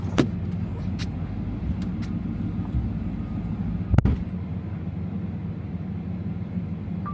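A Mustang car drives through deep snow during a major snowstorm in Charlotte, NC, giving a steady, close low rumble of engine and road noise with a single brief knock partway through.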